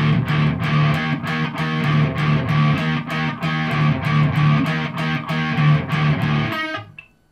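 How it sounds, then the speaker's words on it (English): Final riff of a song on distorted electric guitar, a loud, chugging, rhythmic pattern of low palm-muted notes that ends abruptly with the strings cut off. "And the last riff sounds like this."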